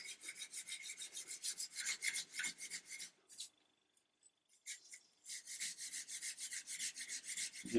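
Steady back-and-forth rasping of sandpaper taking varnish off a wooden gun stock, in rhythmic strokes with a short pause midway before the strokes resume, close and fairly quiet.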